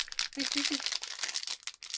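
Plastic packaging crinkles and crackles as it is torn open by hand, a busy rustling texture that runs for about two seconds, broken by short pauses, with a voice briefly talking over it.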